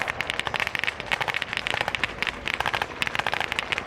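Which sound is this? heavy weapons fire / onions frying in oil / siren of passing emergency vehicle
heavy weapons fire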